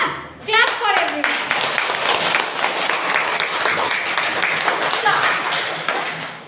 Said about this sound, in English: Clap for everyone.